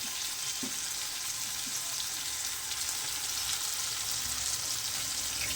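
A mustard, ginger and garlic spice paste fries gently in a pan for a mustard fish curry, giving a soft, steady sizzle with a couple of faint stirring touches.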